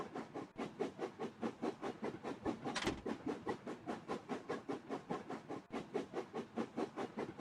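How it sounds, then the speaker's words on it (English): Train cars rolling steadily along a track in a simulation game, a continuous rhythmic clickety-clack with regular beats and a brief hiss burst midway, fairly loud and with no talking. "These trains move really slow."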